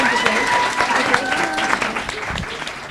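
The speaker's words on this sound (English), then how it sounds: "let's give another round of applause for this wonderful panel" Conference audience applauding a literature panel at The Archer School for Girls, steady loud clapping across the room with voices and a few whistles mixed in, tapering slightly toward the end.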